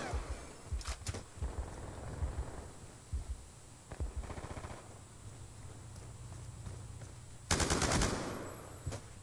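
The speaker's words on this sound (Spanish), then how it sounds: "Y ahora ya nos salen las metralletas ligeras." Bursts of light machine gun fire from Black Ops 2, rapid crackling volleys in several separate runs with short pauses between them, plus a louder final burst near the end.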